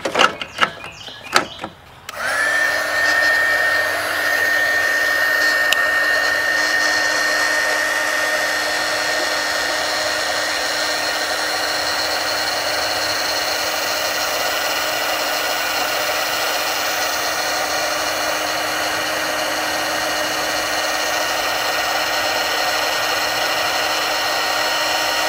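A heat gun blows steadily for over twenty seconds, shrinking heat-shrink tubing over a wire splice during a Ford F-150 fuse 27 relocation kit install; a few brief handling clicks come first, then the loud, even whine-and-rush continues alone.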